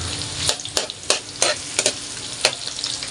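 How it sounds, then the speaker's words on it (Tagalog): Onions sizzle in a hot pan for adobong kangkong with tokwa, a steady close fry broken by about six sharp scraping stirs. "Sibuyas. Pabayaan po natin maging brown."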